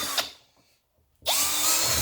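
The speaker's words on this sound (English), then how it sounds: "need to take a 1/4 inch bit and drill this air box out" A power drill with a 1/4 inch bit bores out an intake air box, whining at high speed, pausing briefly, then spinning up again loud and close.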